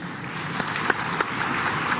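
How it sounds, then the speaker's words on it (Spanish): Audience applause at a Peru–Chile presidential meeting and binational cabinet session, a short burst of many hands clapping indoors with a few sharper individual claps standing out, continuous and moderately loud. "Con estos aplausos concluye esta jornada del encuentro presidencial"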